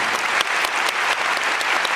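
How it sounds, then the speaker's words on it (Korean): An audience at a classical crossover concert's curtain call bursts into loud, continuous applause, a thick wash of clapping hands throughout. "큰 박수 부탁드리겠습니다"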